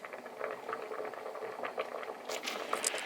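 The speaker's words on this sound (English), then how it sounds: "as you can see, it's boiling nicely" Pea soup boils in a pot on the stove, giving a steady bubbling and popping patter that grows somewhat busier toward the end, with no voices.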